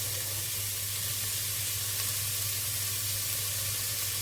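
Vegetables sauté in a pan on a gas hob while batch-cooking a soup, giving a steady, close, even sizzle throughout with no talking.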